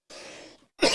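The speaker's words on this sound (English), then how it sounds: "You gotta clear your throat" A man clears his throat close to the mic, a rough rasping burst followed by a brief pause and a second louder, harsher hack, with no words spoken.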